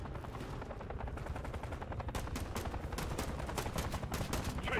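Automatic gunfire from the Modern Warfare 3 campaign in a video game, a steady stream of rapid shots growing sharper and denser halfway through, loud and close with continuous battle noise underneath.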